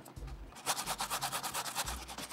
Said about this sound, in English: And you just start to grate.